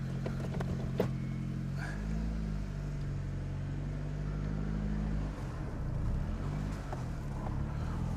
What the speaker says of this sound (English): Let's leave the engine on for a little bit to recharge it.